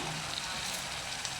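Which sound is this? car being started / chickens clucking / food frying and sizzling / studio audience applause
food frying and sizzling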